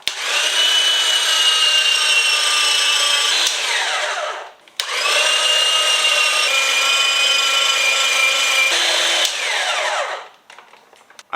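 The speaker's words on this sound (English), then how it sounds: "Now I'm gonna use my favorite salad shooter, which grates large amounts of cheese pretty quickly." A salad shooter electric grater shreds cheese for Chicago-style pizza in two long, loud motor runs of about four seconds each, with a brief gap between them and a whine that drops as each run winds down.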